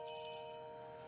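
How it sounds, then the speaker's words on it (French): A faint, sustained metallic ice cream truck bell tone ringing steadily, quiet and distant, with a soft shimmer on top. "C'est le camion du marchand de glace qui produit ce bruit de cloche."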